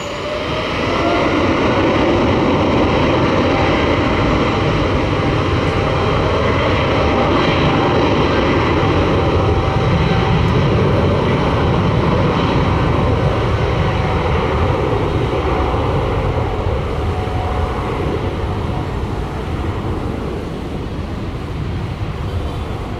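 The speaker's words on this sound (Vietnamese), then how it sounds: "Bây giờ máy bay được lệnh cất cánh." An EVA Air jet takes off at Tan Son Nhat airport in Ho Chi Minh City with a loud, continuous engine roar and rumble that holds steady throughout and eases slightly near the end.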